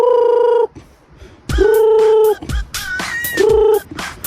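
Loud, harsh chicken calls repeat in several bursts separated by short pauses, close to the listener, with no talking.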